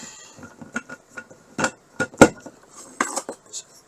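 Metal table leg being fitted into an RV dining table mount and tightened down, heard as a string of sharp clinks, taps and knocks of metal parts, one louder clunk standing out, close and with no talking.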